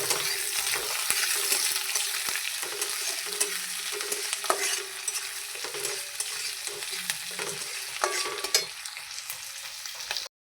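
Chopped green chili, ginger and garlic fry in a pan over panch phoron while a pumpkin and egg dish is cooked, with a steady oily sizzle and repeated scraping spatula strokes. It sounds close and continuous, with no talking.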